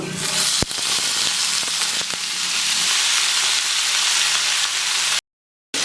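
Potatoes hitting hot oil with fried garlic in a home kitchen pan give a loud, steady sizzle and hiss. The sizzle runs continuously, broken by a couple of sharp clinks, then drops out briefly near the end.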